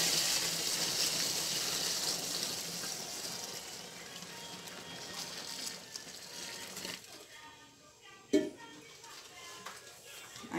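Water pours and gushes into a container while making homemade liquid soap, a steady rushing flow that gradually thins out, with a sharp knock near the end.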